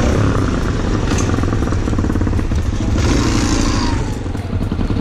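A cold motorcycle engine runs loud and steady at close range, a dense unbroken drone with faint clattering, and no voices over it.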